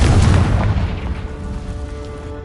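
An explosive Confringo spell blast in a Harry Potter video game: a loud, deep boom at the start that rolls off into a slowly fading rumble.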